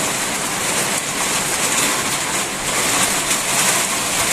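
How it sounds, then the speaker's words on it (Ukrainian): Loud, steady downpour in a Ukrainian village with a broad rushing hiss, gusts swelling and easing as wind drives the rain; no voices. "Ось такий у нас дощик іде."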